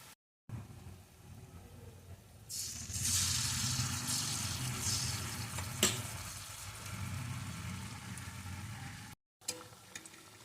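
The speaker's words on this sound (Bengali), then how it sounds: "তেলের মধ্যে দিয়ে ভেজে নেব এইভাবে" Gokul pitha, a milk-kheer pitha, fries in hot oil with a steady bright sizzle that swells after a quiet start, with a few faint clinks of stirring.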